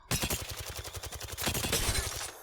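Rapid video game gunfire from straight shots fired down the middle, a steady rattling stream of closely spaced shots that swells slightly midway and runs for a couple of seconds.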